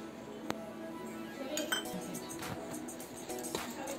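Spoon or utensil stirring and clinking against a steel bowl while ajwain, turmeric, sesame, salt and ghee are mixed into spinach puri dough, with a sharp tap early on and scattered scraping clinks throughout.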